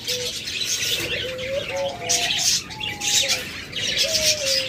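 Shrill, rapid chirping from an albino lovebird pair, both yellow-beaked and red-eyed, carries on nonstop and close, with some lower coo-like calls from nearby birds mixed in.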